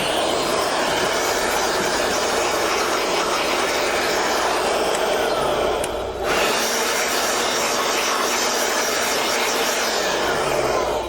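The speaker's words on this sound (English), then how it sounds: "it really can be handy to have a little blower that is handheld, that's not like a big leaf blower" A small handheld blower runs in a woodworking shop, clearing dust from a freehand-carved wood sign on a counter: a loud, steady, close whooshing roar that dips briefly near the middle before resuming.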